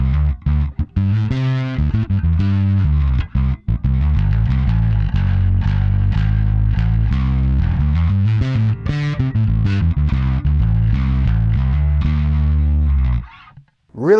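A bass guitar played through a Fender Bassman distortion pedal, gritty and loud, with a run of sustained notes and riffs before cutting off.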